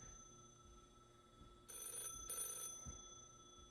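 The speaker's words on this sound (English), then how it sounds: "telephone's ringing again, but it's not connected to anything" A telephone rings in the Backrooms Lost and Found video game, two short bursts of bright electronic ringing over a low ambient hum, with no one speaking.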